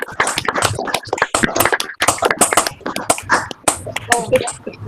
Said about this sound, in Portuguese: uma salva de palmas para todos aqui